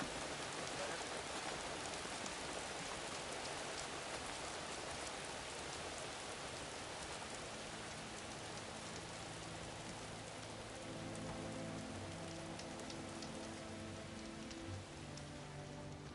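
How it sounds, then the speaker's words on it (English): Steady rain falls in the video game Horizon Forbidden West, a dense continuous hiss of drops on surfaces that stays even throughout with no speech, while low tonal game ambience rises softly underneath in the second half. "Rain's letting up."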